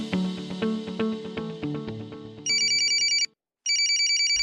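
A telephone ringtone on an Indonesian radio programme trills in two bursts separated by a short silence, following a few descending musical notes, loud and close with no voices.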